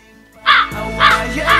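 Three harsh, raspy caws from a crow, close and loud, spaced evenly in quick succession.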